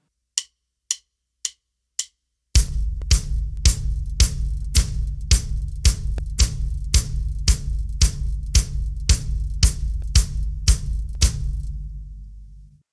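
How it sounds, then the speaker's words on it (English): Bass drum pounding steady four-on-the-floor quarter notes for a disco pattern, close and loud; a few light ticks count in first, then an unbroken run of evenly spaced kicks over a sustained low ring. "The first is to start with our feet, playing all 4 quarter notes together"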